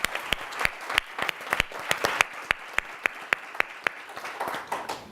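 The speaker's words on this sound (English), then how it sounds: "So a quick round of applause to Kim and the whole team." A quick round of applause at a precision-medicine meeting: a modest room of people clapping, with sharp individual claps standing out over a softer bed of clapping, lasting about five seconds.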